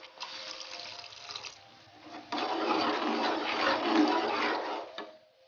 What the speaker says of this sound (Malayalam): പിന്നെ ഇതിലേക്ക് നമുക്ക് 1 കപ്പ് 3-ാം പാൽ ഒഴിച്ചു കൊടുക്കാം